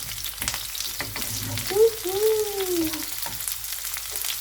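Onions fry over high heat in a pan with a steady close sizzle and stirring scrapes, while a short voiced sound rises briefly in the middle.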